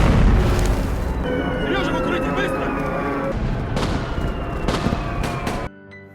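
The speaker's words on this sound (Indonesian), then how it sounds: "Namun tiba-tiba pesawat musuh datang menyerang markas itu." An enemy air raid pounds a military base in a war film, with heavy explosions and booming blasts rolling almost continuously for several seconds before cutting off abruptly near the end.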